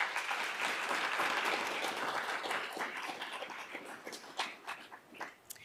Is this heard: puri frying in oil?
no